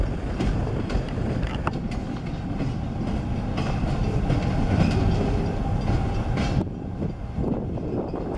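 An ELS 402 locomotive runs deadhead north on the rails, a loud continuous rumble with rattling clickety-clack and wind buffeting close to the track, steady throughout with no talk.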